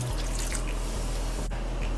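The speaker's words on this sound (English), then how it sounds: "I'll add some boiling water to cover the chicken and the papaya" Boiling water is poured into a pot over chicken and papaya, giving a continuous close splashing, gurgling pour with no talking.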